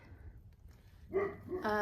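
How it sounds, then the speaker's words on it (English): A pet dog barks indoors during gardening work, two sharp yappy barks near the end after quiet room tone, close and moderately loud. "Apologize for my dog."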